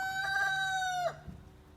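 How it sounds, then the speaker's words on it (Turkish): A single drawn-out call from a black chicken in a village, fairly close, rises and then falls off abruptly, followed by a short quiet stretch. "Güzel tavuklar var"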